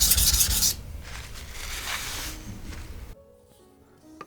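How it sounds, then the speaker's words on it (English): Chef's knife bevel rubbed on a coarse 320 grit Sharpening Rockstar whetstone, close gritty scraping strokes for about three seconds, then a quiet stop with faint clicks. "I'm gonna make sure the bevel gets really nice and even with this coarser grit stone"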